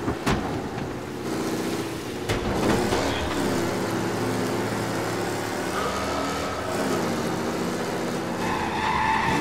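A car in the video game Mafia: Definitive Edition skids and squeals its tires over a droning engine, with repeated screeching slides and a few sharp thuds, loud and continuous throughout.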